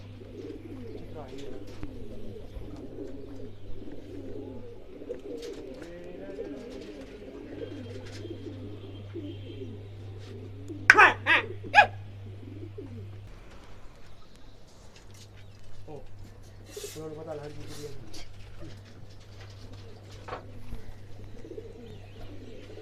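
Flock of kabootar bazi pigeons coos near and far over a low steady hum, with a couple of sharp louder calls or flaps in the middle and quiet talk at times.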